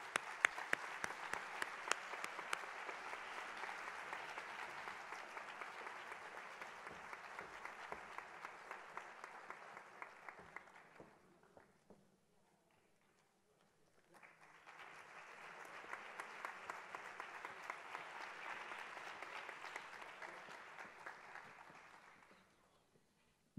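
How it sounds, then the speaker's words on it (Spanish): Audience applause at a municipal gala against gender violence in Móstoles as an award is collected, a long steady ovation that fades out around eleven seconds, pauses briefly, then swells again and holds until the end. "Un fuerte aplauso."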